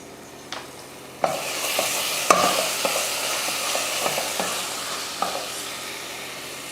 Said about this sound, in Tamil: மசாலா போட்டதுக்கப்புறமா அந்த பச்சை வாடை போகிற வரைக்கும் நல்லா வதக்கி விட்டுட்டு